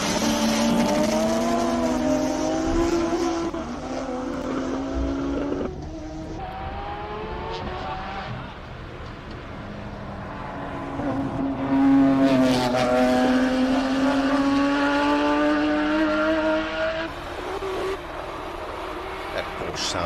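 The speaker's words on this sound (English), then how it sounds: "That Porsche sounds incredible." A Porsche race car charging up the Simola hillclimb course in South Africa, its engine revving hard with pitch climbing and dropping through gear changes, loud and close with a commentator talking over it.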